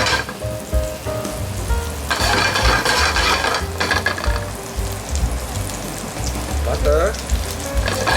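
Sliced garlic frying in a hot pan for a butter sauce to go with seabass, a steady close crackling sizzle with occasional stirring scrapes and no voices.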